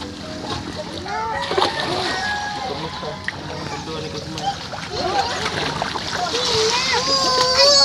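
Water splashing and sloshing while bathing in the shallow sea in the morning, irregular close splashes under frequent talk and a voice, growing busier toward the end.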